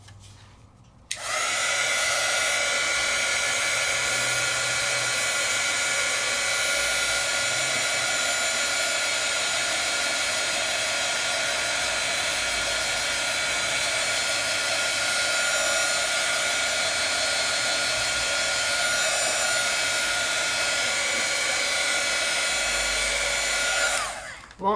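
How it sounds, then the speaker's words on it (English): A heat gun runs steadily and loudly for about 23 seconds, blowing a continuous airy roar over a rice paper stamp design to dry it, then cuts off at the end. "Can you dry it with a heat gun? Yes, you can."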